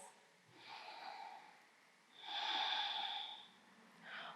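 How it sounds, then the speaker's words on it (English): Slow, deep breaths during a yoga vinyasa flow, a long airy inhale then a fuller exhale and the start of another, close and steady with no talking over them. "And take 2 more breaths."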